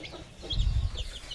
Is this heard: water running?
no